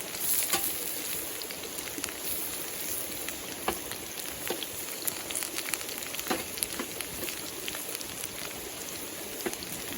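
Sausage frying in a pan at a campsite, giving a steady fine sizzle with scattered sharp pops and crackles throughout, close and clear, with no talking over it.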